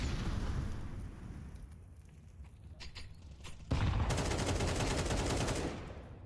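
Rapid automatic gunfire spray in a Counter-Strike match, loud and dense, building in bursts and then a sustained volley in the second half, with no talk over it.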